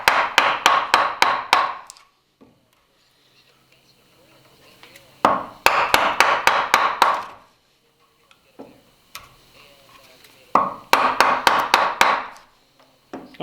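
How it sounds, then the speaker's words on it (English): A sharp firmer chisel is driven into a timber frame mortise in three bursts of rapid, crisp blows, each a quick run of about six close, hard knocks separated by pauses of near quiet. "nothing really beats a good sharp firmer chisel"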